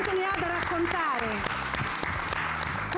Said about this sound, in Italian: applauso, applauso, applauso